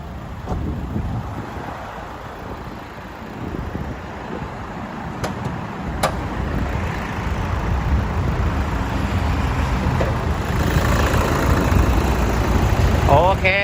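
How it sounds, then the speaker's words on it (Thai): A 2015 Toyota Hilux Vigo Prerunner double cab with a 2.5-liter VN Turbo diesel idles, a steady low rumble heard close up under wind noise and outdoor background. "สตาร์ท เครื่องด้วยเลยนะครับ จะได้ฟังเสียงเครื่องนะครับว่าเพราะขนาดไหนนะครับ"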